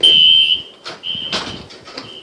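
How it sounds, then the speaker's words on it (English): A fire alarm on a porch sounds a shrill, loud electronic tone during a test, in repeated bursts with short gaps and clattering noises between them. "There was the alarm outside."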